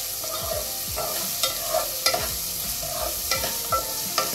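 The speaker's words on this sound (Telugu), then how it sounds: "ఫస్ట్ ఆనియన్స్ని ఫ్రై చేసుకుందాం." Onions fry and sizzle in a pan for spicy Andhra-style cabbage, with a steady hiss broken by regular scraping stir strokes, close and alone with no voices.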